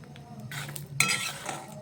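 Almonds dry-roasting in a pan over low heat, stirred steadily, giving close scraping and light clinking of metal against pan with a few sharper knocks partway through, no voices.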